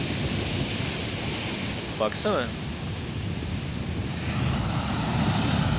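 Continuous wash of ocean surf with wind rumbling against the microphone; a voice says a single short word partway through.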